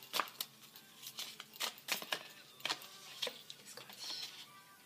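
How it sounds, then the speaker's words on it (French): Tarot cards shuffled and drawn by hand, giving a run of quick, crisp riffling and flicking bursts at close range, with short pauses between them and no talk. "On va tirer nos 3 cartes."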